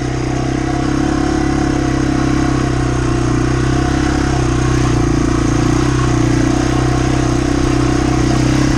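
A Yamaha TW200 with big fat tires rides slowly through mud in low gear, its single engine droning loud and steady close up, with no talking.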